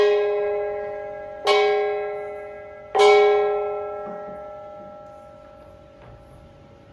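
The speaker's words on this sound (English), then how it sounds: "the inauguration of the opening ceremony of FIK Fair 2026 through the gong beating as a symbolic act to officially open the event" Three strikes on a ceremonial gong opening the FIK Fair 2026 event, each a bright, ringing metallic tone that decays slowly, the last strike noticeably softer.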